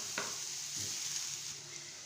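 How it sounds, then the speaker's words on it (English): Onions stir-frying in hot cooking oil in a pan give off a steady, close sizzle, with a stirring scrape near the start and again partway through. No one speaks. "you're going to add the remaining onions into the oil and stir fry"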